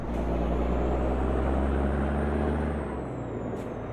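A heavy truck in the driving game American Truck Simulator gives a loud, steady low engine rumble that eases off near the end, followed by a brief burst of air-brake hiss.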